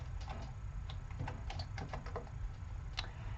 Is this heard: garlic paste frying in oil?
no